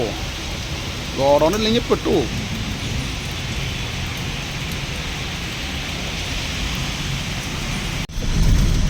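Steady rain hiss fills the whole stretch at a truck parcel-loading site, with a brief burst of people talking near the start.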